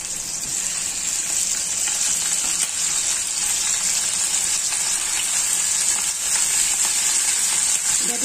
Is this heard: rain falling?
no